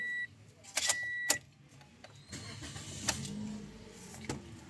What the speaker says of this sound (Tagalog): Tapos pwede ko nang pa-start itong makina.